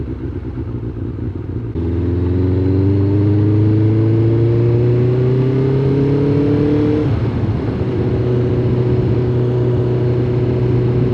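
A Suzuki GSX 600 motorcycle engine pulls hard under acceleration while riding, its tone rising steadily through a gear before a brief shift dip, then settling into a loud, continuous drone close by.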